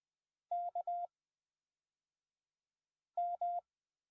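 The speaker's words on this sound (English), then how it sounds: "But this is CW in case you've never heard it." Morse code (CW) tones play from a phone through a microphone: a short burst of three beeps, a pause, then two more beeps, clean steady tones against silence.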